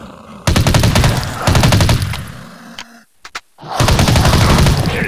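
Rapid automatic gunfire from the Dead Target zombie shooting video game, loud bursts of machine-gun fire in several long volleys broken by a short pause with a few isolated shots.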